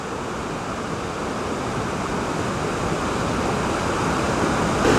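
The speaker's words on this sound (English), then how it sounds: "This is a nice little waterfall." A small waterfall tumbles through a rocky gorge along a New Hampshire scenic byway, giving a steady, full rush of falling water that holds even and close throughout, with no voices.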